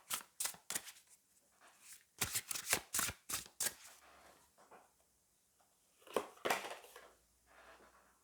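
Tarot cards are shuffled and drawn by hand, giving quick bursts of crisp riffling and slapping in two clusters with quieter pauses between, close and fairly soft.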